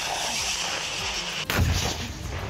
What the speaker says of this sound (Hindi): कहीं रूसी फौजियों ने जेलेंस्की के सैनिकों को तोपखाने से अपने निशाने पर लिया